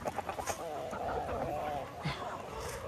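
A rooster and chickens cluck in a scratch yard, short repeated calls near the microphone mixed with a voice talking over them throughout.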